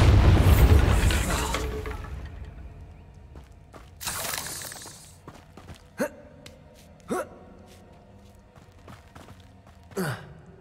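Bombarda spell detonating in the Hogwarts Legacy video game: a loud opening explosion that fades, followed by a second burst and several sharp cracking impacts and debris clatters at intervals, with no talking.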